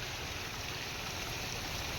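Floodwater rushes through drains in a steady, close, unbroken gushing roar, with no talking over it.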